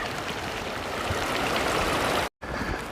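A small stream on the Appalachian Trail runs down toward a lake, giving a steady, close rushing and babbling of water with no voices, briefly cut off near the end.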